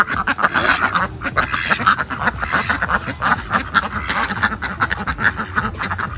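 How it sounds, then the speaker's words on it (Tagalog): Peking ducks on a small farm quack loudly and continuously, many birds calling over one another in a dense, overlapping chorus close by. "Ayan po yung mga Peking duck natin."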